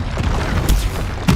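Confringo blast spell in the Hogwarts Legacy video game, a loud booming explosion with a heavy low thump, followed by a second burst near the end over a rumbling, noisy wash.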